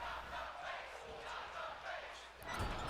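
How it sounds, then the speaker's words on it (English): A wrestling arena crowd in the video game WWE 2K23 chants and roars steadily, a dense, sustained wall of massed voices with a louder surge near the end. "I don't know exactly what the crowd was chanting there."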